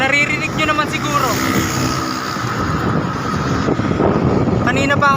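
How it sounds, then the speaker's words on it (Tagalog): Strong wind batters the microphone while riding between Calaca and Palemery on a Batangas loop, a loud continuous roar under someone talking, with faint engine hum beneath. "grabe yung hangin, sobrang hangin"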